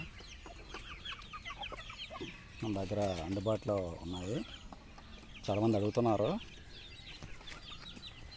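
Heavy-breed hens and chicks from a poultry breeder cluck in a few loud bursts, with soft peeping and background chatter of the flock, while someone talks over the birds.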